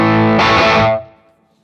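Single electric guitar chord struck through a Vox AC30 amp model with a light medium plate reverb, ringing loud for about a second, then decaying into a soft reverb tail, no voices.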